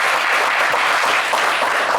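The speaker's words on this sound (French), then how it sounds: "On peut l'applaudir Malik." A studio audience at a French-language game show applauds returning contestant Malik, loud continuous clapping throughout.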